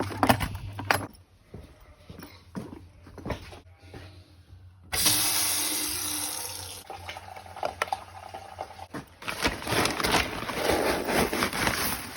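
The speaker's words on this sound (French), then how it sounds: "je vais prendre un seau, mettre de l'eau tiède dedans" Lukewarm water gushing from a tap into a bucket to mix a magnesium drench for outdoor ewes, preceded by clinks and handling clatter, then a loud steady rushing fill with splashy turbulence.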